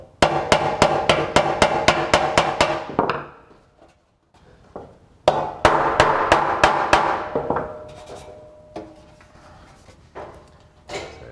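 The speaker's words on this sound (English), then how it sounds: "It's a toy hammer, it's a toffee hammer. We'll just tap it. Noisy." Rapid bursts of sharp, close metallic taps from a small toffee hammer striking a metal panel of an FB Mondial 125 motorcycle, two quick series separated by a pause, with scattered lighter knocks after.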